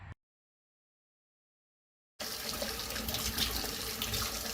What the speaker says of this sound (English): Okay, that water's really hot. I've let it run for a while.